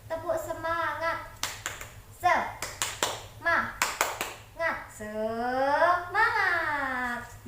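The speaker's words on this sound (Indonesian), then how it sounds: "Ibu contohin ya. Tepuk semangat." A teacher demonstrates the rhythmic 'tepuk semangat' classroom clap, sharp separate hand claps set between stretches of her sung and spoken voice, ending in a long drawn-out vocal call.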